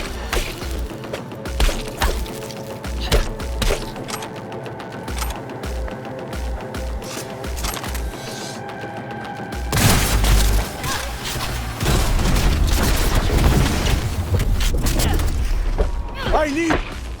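Sustained wartime gunfire follows an order to fire, with rapid overlapping shots and booms that build into a dense, loud fusillade in the second half, under shouted voices.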